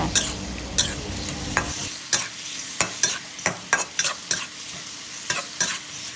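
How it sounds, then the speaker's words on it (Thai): Beef and onion being stir-fried with dark soy sauce: a steady sizzle with repeated sharp scrapes and clacks of a spatula against the pan, close and loud, with no talking. "จากนั้นใส่ซีอิ๊วดำ แล้วผัดผัดทุกอย่างให้เข้ากัน"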